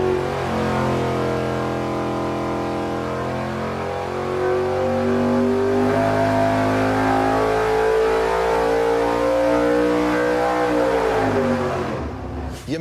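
A nitrous-fed V8 on an engine dyno revs up through a long, loud, rising pull, steady harmonic roar climbing in pitch before cutting off abruptly at the end.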